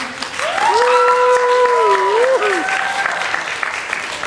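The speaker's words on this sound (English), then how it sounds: "Can you give yourselves a round of applause?" Convention audience at Aki Con applauding themselves, a steady broad wash of clapping lasting about four seconds with voices cheering and calling out over it.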